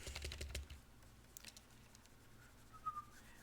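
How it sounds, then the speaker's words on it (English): Computer keyboard bracket keys are tapped repeatedly during digital illustration work, giving faint, close clicks in a loose cluster early on and scattered taps afterward over a quiet background. "you can probably hear me hitting the keys over and over"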